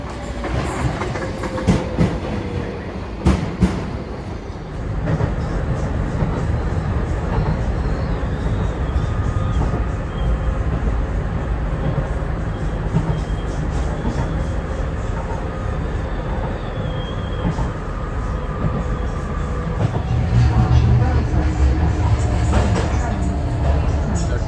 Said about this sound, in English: My train approaching.